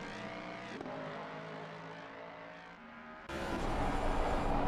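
Race cars, including a Lexus, in an endurance sim racing game on the Nordschleife, a steady loud engine drone with several overlapping tones, then a sudden louder, rougher burst near the end.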